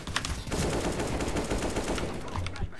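Rapid gunfire from the video game CS:GO, dense bursts of automatic shots crackling continuously for a few seconds, loud and up close with no talking over it.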